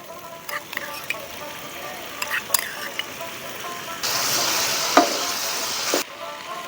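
Spices and whipped yogurt are stirred in a pan. Soft scrapes and clinks come first, then a loud, hissing sizzle bursts up for about two seconds before cutting off. Faint voices may sit in the background.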